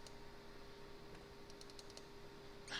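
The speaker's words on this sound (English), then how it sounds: "I'm pretty sure you guys can also hear my clicking pretty well" Faint mouse clicks while playing RuneScape, a scattered run of soft, quick taps over a quiet hum, with a brief louder burst at the end.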